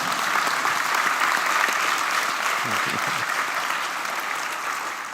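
Applause rises from the crowd at an evening gathering with a hip-hop poet, a full, sustained clapping that stays strong before easing slightly toward the end, with a brief low voice murmuring beneath.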